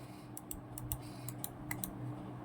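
A quick run of light, crisp computer mouse button clicks in irregular rhythm, close by and fairly quiet over a low background hum.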